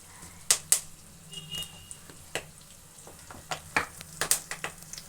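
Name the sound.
curry leaves crackling in hot oil while frying chicken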